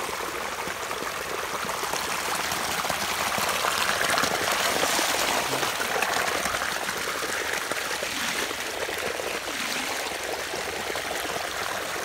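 Water gushes steadily from an irrigation pump pipe, a loud, continuous rushing splash close by with no pauses.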